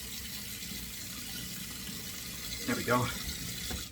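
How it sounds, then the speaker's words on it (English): Warm water running briefly from a tap while someone lathers a face with stick soap, a soft splash rising near the end under a quiet spoken remark. "Now another little splash of warm water."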